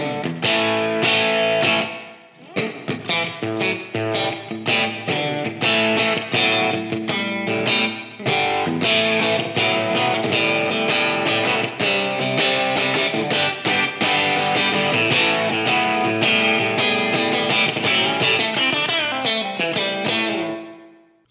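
Electric guitar played through a Line 6 POD Go with Retro Reel tape saturation pushed into distortion, loud strummed chords and riffs with a gritty, compressed tone, continuous, pausing briefly near the start.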